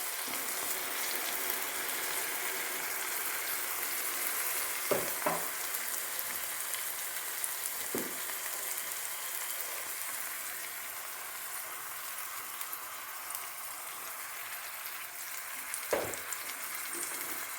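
Fish in a masala of turmeric, fenugreek and pepper powder bubbles and hisses steadily in a pan over high heat, a dense continuous sizzle with a few soft knocks from the pan.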